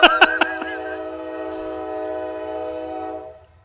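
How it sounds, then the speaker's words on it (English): A train horn blares close by in a few short bursts that merge into one long, loud sustained honk, then fades out over the last half second, with a low rumble underneath. "Once we get past the horn honking"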